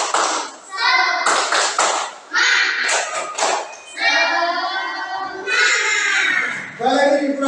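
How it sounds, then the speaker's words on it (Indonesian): A class of children claps together in a rhythmic 'tepuk semangat' pattern, loud and close, mixed with children's voices chanting and calling out in bursts throughout. "Coba sekarang kita tepuk semangat bersama-sama"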